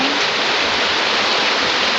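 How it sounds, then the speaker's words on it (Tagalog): Torrential rain keeps falling while floodwater runs past a home in a subdivision, a steady, close wash of noise with no voices over it. "Grabe yung ulan, mo."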